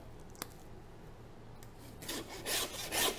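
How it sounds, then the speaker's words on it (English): A handsaw cuts through a lamb carcass to take off the hindquarters. After a quiet start with a single click, rough rasping strokes come in close and grow louder toward the end, with no talking. "Then you wanna grab your handsaw,"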